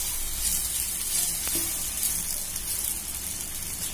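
Horse gram dosa batter sizzles on a hot griddle, a constant close hiss that runs evenly throughout with no voices.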